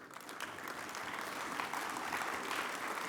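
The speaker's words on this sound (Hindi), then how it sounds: "तालियों से उनका स्वागत करिए।" An audience at a cyber awareness day event claps to welcome a guest speaker, sustained, dense applause holding steady throughout.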